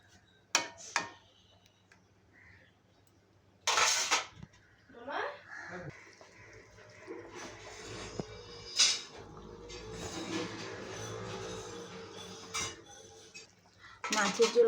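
Fried fish being stirred into a potato curry in a metal pot, with scattered clanks and scrapes of a utensil against the pot, quiet gaps between bursts and a steady low hum beneath.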